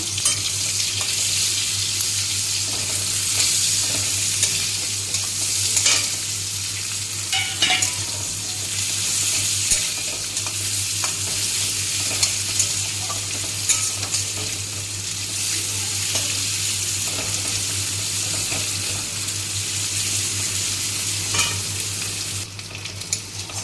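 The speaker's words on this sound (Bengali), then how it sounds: "পেঁয়াজটা ভাজা হয়ে গেছে" A whole onion sizzles and crackles in hot oil as the base for taro leaves cooked with shrimp, a steady close frying hiss with occasional stirring scrapes and no talking.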